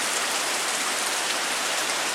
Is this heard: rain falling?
yes